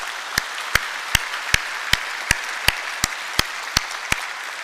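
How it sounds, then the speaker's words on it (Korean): Church congregation at an Easter Sunday worship service clapping in praise, a broad wash of applause with a steady unison beat of strong, evenly spaced claps running throughout. "부활의 주님께 감사와 영광의 박수를 한번 올려드리실까요?"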